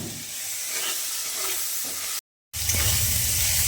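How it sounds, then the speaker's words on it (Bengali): Onions sizzle steadily as they fry in a pan for a potato mash dish, a continuous close hiss with a brief gap of silence midway before the frying resumes slightly louder. "এখানে পেঁয়াজ ভাজার কাজ চলছে"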